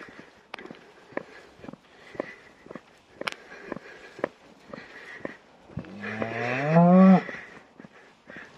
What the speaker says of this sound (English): Now the two cows are back down with their calves and they've joined the rest of them here.